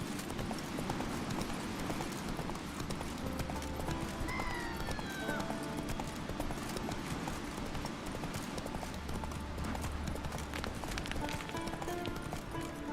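Horse hooves clip-clop steadily at a run in The Witcher 3, close and continuous over dense game background sound, with brief voice-like sounds and a faint whinny.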